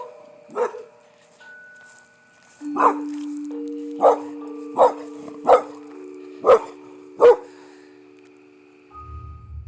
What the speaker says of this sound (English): the dog's certainly barking at something